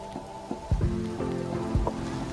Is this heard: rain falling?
yes